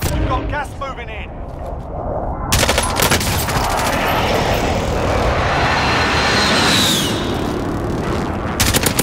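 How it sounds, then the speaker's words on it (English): Enemy precision airstrike in a shooter game: a roaring aircraft engine sweeps overhead amid bursts of gunfire and explosive rumble, loud and dense, with brief clicks and game voice chatter at the start. "Enemy precision airstrike."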